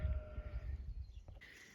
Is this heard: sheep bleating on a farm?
yes